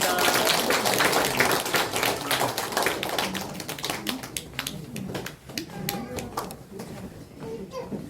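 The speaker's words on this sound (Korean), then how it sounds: "박수해 주세요. 큰 박수 하겠습니다" Church congregation clapping during a Christmas thanksgiving service, loud and steady at first and then thinning out, with voices heard alongside.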